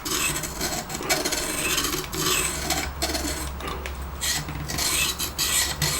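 A knife blade is drawn back and forth across the roughest coarse sharpening stone of an Exduct E0931D sharpening system, giving steady rasping strokes in a continuous rhythm, close and fairly loud with no talk.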